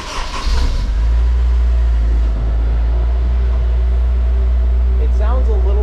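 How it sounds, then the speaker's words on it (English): Honda S2000 fitted with a Berk high flow cat exhaust, idling just after a cold start: a loud, steady, deep exhaust drone close by, with a brief voice near the end. "All right, here we got a cold start."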